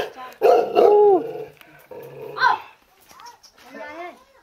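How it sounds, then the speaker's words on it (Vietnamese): A fierce dog in a village house yard barks loudly and growls in a few short, close bursts with pauses between them. People talk nearby. "À, chó dữ thế."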